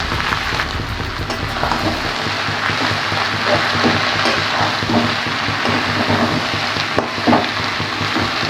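Cabbage added to a pan of oil, cumin and browned potatoes hisses in a dense, continuous crackle, like rain on a surface, with occasional stirring clatters and small pops, close and steady throughout with no voices.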